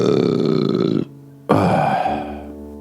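Two long, loud, croaky burps close to the mic, the first drawn out, then a short pause before a second one that trails off slowly.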